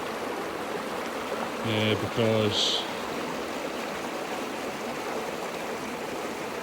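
Rushing mountain stream at a river crossing on a hike near Bridge of Orchy, steady broadband water flow throughout, with a brief spoken word partway through.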